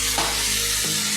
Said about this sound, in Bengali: তাতে আমি রেড চিলি সসটা দিয়ে দিলাম